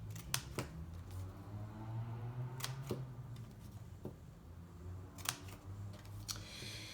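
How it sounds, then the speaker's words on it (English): Scissors snip slits into a cardboard circle, a series of crisp, separate cuts over a steady low background hum, close and fairly quiet. "So now I need to take my scissors and I'm just going to cut about an inch at from the side of the circle"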